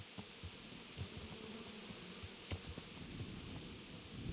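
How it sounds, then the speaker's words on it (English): Bees buzz faintly in the Kingdom Come: Deliverance video game, a quiet, steady hum under stormy weather sounds with light rustling and no speech. "I could hear the bees that time."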